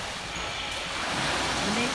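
Soft, steady wash of lake water lapping along a shore, a continuous broadband hiss with gentle swells and no distinct individual wave crashes.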